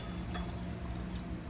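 Liquid chemical solutions are poured together into containers, producing a soft, steady splashing pour that swells briefly near the start over faint background noise.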